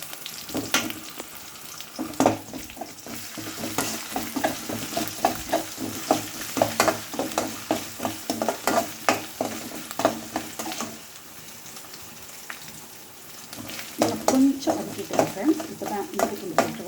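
Ginger garlic paste sautéing in a pan while being stirred, with steady sizzling broken by frequent scraping strokes of a spatula at close range, easing off briefly before the stirring picks up again.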